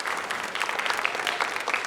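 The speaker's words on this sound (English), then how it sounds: "And give them a round of applause." Audience applause for student contestants on a televised high school quiz show, a steady dense clapping from a studio crowd, loud and even throughout with no voices.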